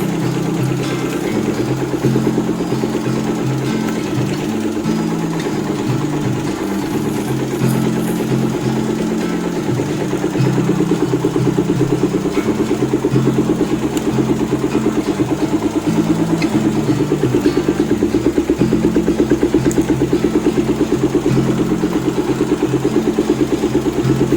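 A Suzuki Thunder 250 motorcycle engine idling after an ignition repair, a steady loud rumbling putter with a fast even firing rhythm that holds for the whole stretch, close by and without talk.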